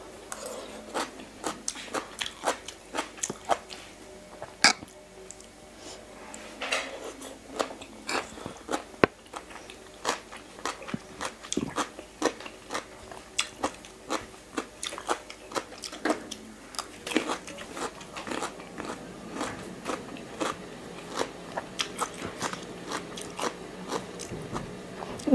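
Crisp, crunchy chewing of a spicy Thai salad made with shrimp and sweet root in place of papaya, heard as repeated close bites and crackling crunches in an irregular rhythm over about twenty-five seconds.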